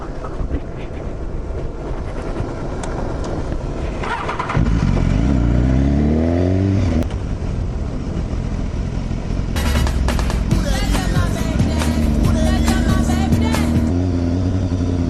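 A motorcycle engine drones steadily, then revs up through several gear changes, loud and close, with strong wind rush throughout, riding through a forest.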